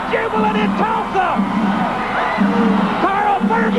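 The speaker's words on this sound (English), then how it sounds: "The crowd is jubilant in Tulsa." A jubilant arena crowd at a Tulsa professional wrestling match cheers, whoops and bellows continuously after a new champion is crowned, loud and sustained with rising shouts and yells throughout.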